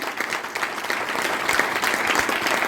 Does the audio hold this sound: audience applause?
yes